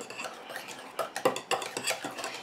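Mango, coconut and shea foot butter mixture stirred in a bowl, giving soft irregular scraping and clinking of a utensil against the container, close and fairly quiet.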